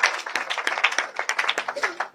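An audience at a Christian wedding message claps in quick, irregular bursts of sharp hand slaps, fairly close and lively, with some voices mixed in.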